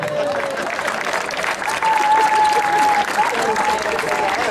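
Audience applause at a comedy show during an outdoor artistic parade event in Ahuachapán, a steady dense clapping wash with crowd noise and a sustained tonal whistle or horn line running through it, loud and continuous.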